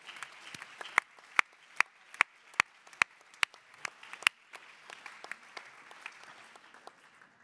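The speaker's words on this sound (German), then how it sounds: "an der Stelle ist auch mal ein dicker Applaus für unsere Wahlhelferinnen und Wahlhelfer drin." Applause at a party convention for election helpers, scattered clapping from a hall audience with a few sharp, loud claps close by standing out over the rhythmic background.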